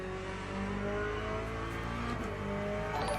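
A Corvette race car engine in a racing video game set at Laguna Seca holds a steady, loud drone throughout, with brief shifts in pitch as it works through gears and no talk over it.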